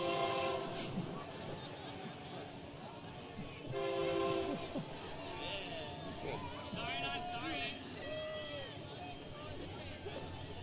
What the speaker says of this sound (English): Pausing for train.